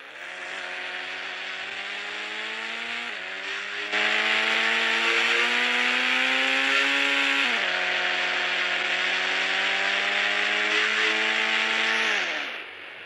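A Range Rover's engine drones in the mobile game Indian Bike Driving 3D. The steady, buzzy whine climbs in pitch, drops sharply at each gear change, then climbs again. It is fairly loud, runs alone without voices and cuts off near the end.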